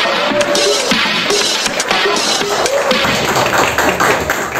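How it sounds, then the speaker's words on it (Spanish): Loud applause welcoming a speaker at an educational event, a dense continuous crowd clapping close up, with no talk. "Recibimos de pie y con un fuerte aplauso a Milka."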